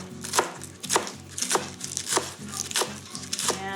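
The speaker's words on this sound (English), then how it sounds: "chopping away" A knife chops fresh herbs on a cutting board for a salmon salad, about a dozen quick, crisp thuds in an uneven rhythm, close and fairly quiet with no talking.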